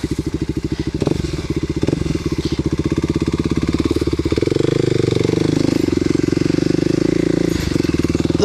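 A Kawasaki KLX250SF motorcycle engine thumps close and loud with a fast, steady pulsing beat while being ridden, its pitch and loudness rising partway through and holding, with no talking.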